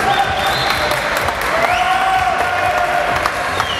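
A large crowd at a bodybuilding physique championship in a university stadium in Mansoura, Egypt, claps and cheers steadily, dense applause with whoops rising through it, loud and continuous throughout.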